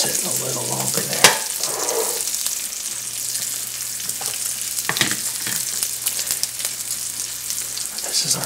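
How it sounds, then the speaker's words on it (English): Crispy bacon frying in a pan, a steady close sizzle and crackle running throughout with a few sharper pops and clinks, no voices. "My bacon real crispy, so we'll let that sit a little longer there."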